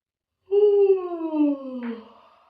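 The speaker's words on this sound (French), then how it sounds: "on ouvre la bouche, on inspire. Et on bâille. On fait ça 3 fois." A person yawns during a group stretching exercise, a single drawn-out, descending voiced yawn lasting about two seconds, close and fairly loud against silence.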